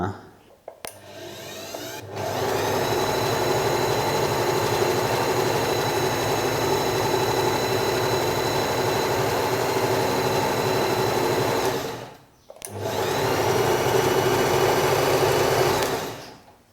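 A Usha Janome Allure DLX automatic sewing machine runs steadily at speed with a rapid, even mechanical whir. It stitches for about ten seconds, stops briefly, then starts again, close and loud.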